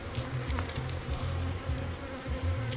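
Honey bees buzz steadily at an open beehive during a hive inspection, a dense continuous drone close by with a few louder individual bees passing near, no talking.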